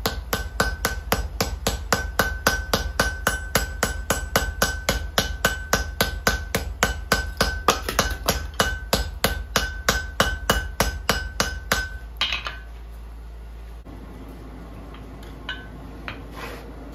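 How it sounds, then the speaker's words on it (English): A hammer strikes hot steel on an anvil during forge welding for a grappling hook: a fast, steady run of sharp, loud blows for about twelve seconds, then they stop and a quieter background remains. "The hammer blow becomes a real dull thud."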